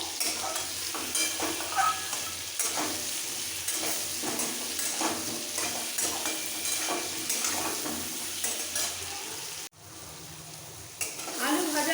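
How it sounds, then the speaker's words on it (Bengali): Potatoes frying in oil with salt, turmeric and red chili powder for a chicken curry, a steady close sizzle with scraping stirs throughout, briefly cutting out near the end before resuming. "ভেজে নেব আলু ভাজা"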